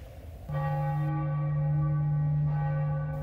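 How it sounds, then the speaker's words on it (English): A church bell rings at midnight on a bitterly cold Christmas Eve outside Crossmaglen, South Armagh, in 1976, one sustained tolling strike with bright ringing overtones that swells and holds steady, heard close and clear. "just as the church bells ring out to announce Christmas"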